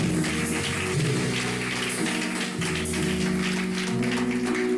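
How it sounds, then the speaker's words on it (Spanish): A church congregation claps together steadily for several seconds, the dense applause sitting alongside sustained musical tones, with no clear speech. "Denle un aplauso al Señor"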